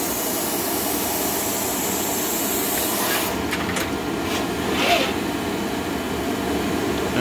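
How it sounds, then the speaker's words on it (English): A DEK Horizon 02i stencil printer's vacuum spools up and whirs steadily in a continuous, loud rushing drone, with a few brief hissy bursts partway through and no talking. "now the vacuum will turn on. You can hear it spooling up."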